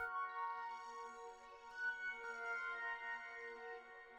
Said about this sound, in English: breaks up your chord into like single plucked kind of notes